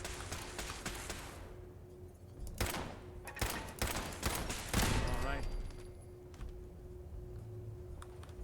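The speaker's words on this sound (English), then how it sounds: "Lots of turrets over here." Turret gunfire in Fallout 4 rattles in rapid bursts and clustered shots, mid-distance and loud against a steady game hum, with a voice speaking in between.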